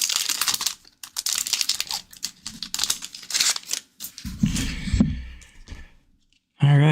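Sports card pack wrappers crinkle and tear in close, irregular bursts, with a person speaking between the bursts.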